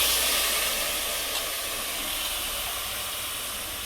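Tempering spices sizzle in a pan while chicken biryani is being made at home, a steady, loud broadband hiss that eases slightly toward the end with no talking.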